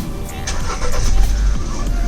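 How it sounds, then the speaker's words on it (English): A 2019 Honda CB500X motorcycle engine starts close by, cranking into a low rumbling idle that builds and steadies. "So I'm just gonna go ahead and start the engine."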